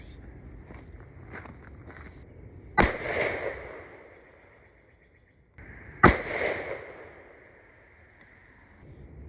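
Two loud, sharp rifle shots from a 7PRC spaced about three seconds apart, firing copper LRX and CX bullets loaded with Reloader 26 powder, each with a ringing decay outdoors and quieter ambient noise before and between.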